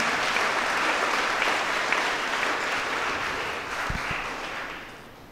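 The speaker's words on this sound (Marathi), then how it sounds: "आपण सर्वजण टाळ्या वाजवून अभिनंदन करूया" A church congregation at St. Thomas Church, Sandor, applauds after a confirmation sacrament, a dense, steady clapping from many people that fades slightly toward the end, with no voices heard over it.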